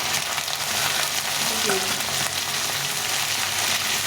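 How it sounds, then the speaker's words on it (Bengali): Bay leaves, ginger and green chili fry in hot oil with a dense, steady sizzle that stays loud and close for the whole stretch without a break. "এটা কিন্তু ভাজা ভাজা করবো"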